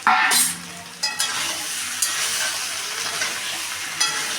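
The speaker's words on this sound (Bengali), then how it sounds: "এবার আমি ভেজে রাখা কপিগুলো এর মধ্যে দিয়ে দিলাম" Fried cauliflower florets tipped into a pan of sizzling spices for a cauliflower and potato dum, a burst of sizzle with a couple of stirring scrapes over steady frying hiss.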